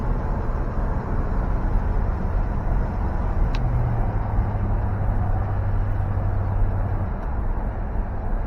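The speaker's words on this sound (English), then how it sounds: "And there she just shifted into drive. We're going about 35 miles an hour." A 1973 Oldsmobile Delta 88 Royale four-door sedan with a 455 V8 cruises at about 35 mph, giving a steady low rumble and road noise from inside the car, with a faint hum appearing midway.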